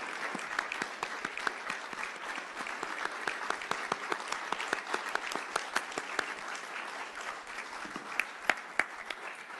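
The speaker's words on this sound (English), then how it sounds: "let's give a round of applause to all of them who have taken the time" People at a town board meeting give a steady round of applause for recognized students, parents and faculty. Individual claps stand out within the crisp, moderately loud wash.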